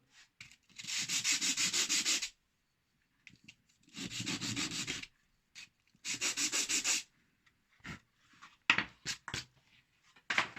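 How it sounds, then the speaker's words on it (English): Sandpaper rubs against a broken whetstone in three long, loud gritty strokes lasting one to two seconds each, followed by shorter scrapes, taps and handling noises, all up close. "you guessed it right. Sandpaper."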